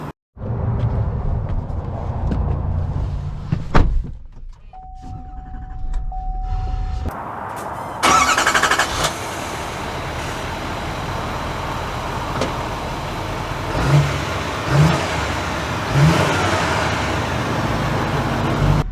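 A 2023 Chevy Silverado 3500 LTZ truck starting up with a brief whir and chime, then settling into a steady engine drone as it pulls away, close and moderately loud.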